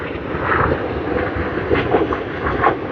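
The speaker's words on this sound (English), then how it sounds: "Excuse the noise, the airport is nearby" Aircraft noise near an airport in San Diego's Balboa Park, a broad steady roar with shifting rumbling texture, moderately loud throughout and no speech.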